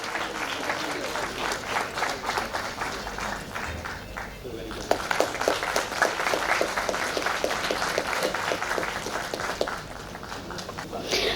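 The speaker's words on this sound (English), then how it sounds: "Big round of applause, please." Sustained applause from an audience fills the whole stretch, steady dense clapping with crowd noise, fairly close and even in loudness.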